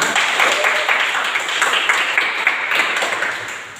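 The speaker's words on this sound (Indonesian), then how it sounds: "Tepuk tangan untuk kita semua." A crowd claps steadily for a few seconds, a dense even patter of many hands that fades slightly toward the end.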